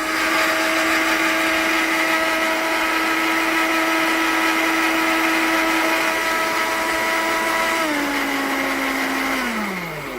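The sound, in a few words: electric blender blending bird's eye chillies and onion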